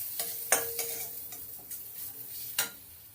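Fried onion being stirred into a pan for matar paratha filling: a few scattered scraping and clinking strokes of a utensil against the pan over a low background, with no talk.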